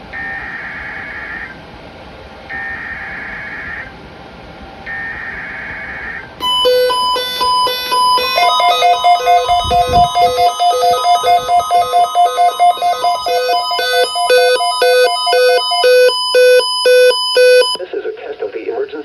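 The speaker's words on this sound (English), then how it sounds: "This is a test of the emergency alert system and NOAA weather radio's warning alarm." A Retekess receiver sounds a NOAA weather radio warning alarm during a weekly emergency alert test: three short beeping tone bursts, then a loud, steady, pulsing multi-tone alarm that runs for over ten seconds before cutting off.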